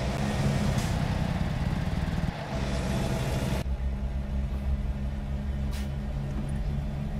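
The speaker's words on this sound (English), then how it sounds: "Inside the truck, you can barely hear the sound of the engine." Truck engine from American Truck Simulator 2020, heard as a steady low rumble that dips briefly near the middle, then continues more muffled and even, as if from inside the cab.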